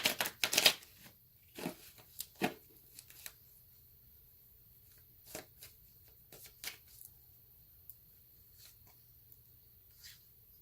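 Tarot cards shuffled for a reading: a quick riffle of crisp flicks at the start, then scattered soft card taps and slides in a quiet room.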